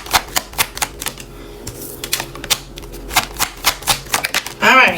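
Tarot cards reshuffled by hand in a series of quick, crisp riffling bursts with brief pauses between them, ending in a louder flurry, with faint speech-like sound in the background.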